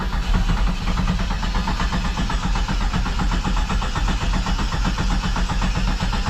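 A Jeep Comanche engine cranks over and over after a shot of brake cleaner, with a steady, loud, rhythmic starter chug and no catch.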